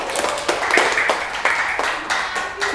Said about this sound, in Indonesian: Ayo beri tepuk tangan dulu buat kelompok 2.